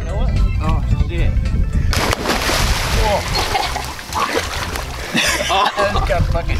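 People splash into dirty water with loud, churning splashes and sloshing close by, while voices talk over the commotion.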